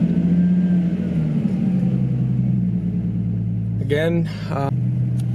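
A 2008 Ford Mustang engine holds a steady, rumbling idle at high RPM, loud and close, while someone speaks briefly near the end.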